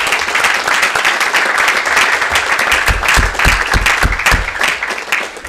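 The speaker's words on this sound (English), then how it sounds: "please give one more round of applause to our panelists" A panel-discussion audience gives the panelists a sustained round of applause, dense and steady with sharper individual claps standing out near the end, and no talk over it.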